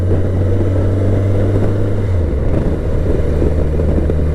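A BMW K1100LT motorcycle rides at about 30 mph in 4th gear, its engine holding a steady, deep, close drone under strong wind rumble, with the pitch dropping slightly midway.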